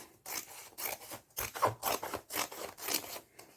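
Scissors cutting through a Pothys shopping bag, splitting it in half down the centre: a series of close, scraping snips and rubs in short bursts with brief pauses, no talking.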